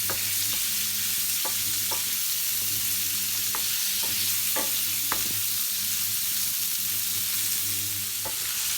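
Kefta meatballs fry over medium heat in a tajine with a loud, constant sizzle. Occasional sharp clicks of stirring or utensil contact cut through it.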